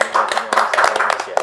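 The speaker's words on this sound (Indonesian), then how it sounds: "Tepuk tangan dulu dong" An audience claps together, with sharp overlapping bursts of hand claps repeating quickly over a short stretch as a voice speaks at the same time.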